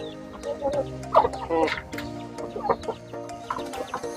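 Brood cocks cluck in a yard pen, their throaty calls arriving in short bursts over a steady backdrop of other fowl, loudest near the middle and close by.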